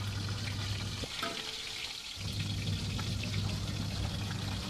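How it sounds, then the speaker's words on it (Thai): Catfish frying while fully submerged in hot oil gives a steady, close crackling sizzle that continues throughout, with a low hum underneath and a brief dip in the middle. "ใส่น้ำมันให้ท่วมตัวปลานะคะแล้วก็เรารอให้ปลาสุกก่อน"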